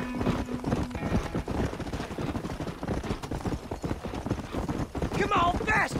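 Horse hooves clip-clop steadily in Red Dead Redemption, a busy rhythmic patter under ongoing character dialogue, with a brief whinny near the end.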